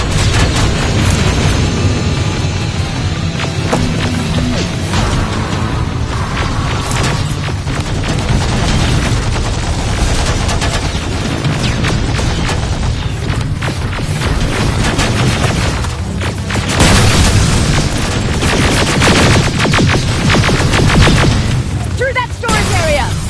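In the Terminator Resistance video game, a loud, dense battle rages: rapid gunfire and heavy explosions crash almost without pause, and voices shout intermittently through the barrage.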